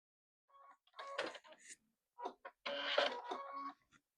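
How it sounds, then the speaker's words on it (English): A home sewing machine sewing a stay stitch on a Y-seam, a few stitches at a time, heard as several short, close whirring bursts separated by pauses, with no talk. "I'm going to do a stay stitch with my machine"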